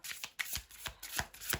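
Tarot cards being shuffled close up, a quick series of crisp riffling and snapping bursts in uneven rhythm, quiet and without talk.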